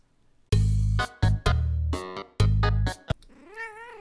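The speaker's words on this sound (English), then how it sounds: "Make more cat noises." A cat meows loudly and close by in several drawn-out, strained calls with short gaps between them. The calls end in a softer, wavering meow, with no talking.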